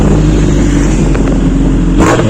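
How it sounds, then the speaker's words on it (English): A Suzuki Hayabusa motorcycle rides along with a steady, loud engine roar and road rumble throughout, swelling slightly near the end as it accelerates. "So we are driving Suzuki Hayabusa right now"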